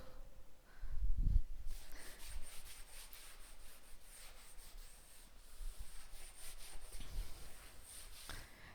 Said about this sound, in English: Yes, I am rubbing the board.